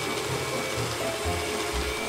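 A Gemini Taurus 3 ring saw fitted with a teardrop-shaped Mega Blade cuts 3/8-inch marble, giving a continuous close, whining motor drone with a gritty grinding edge, steady and uninterrupted.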